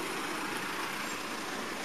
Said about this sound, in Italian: c'è sto rumore del suo camion